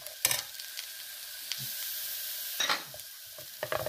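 Brinjal roasting in oil in a pan for carrot chutney, a steady close sizzle with a few sharp spatula scrapes and stirring clatters over it, no talking.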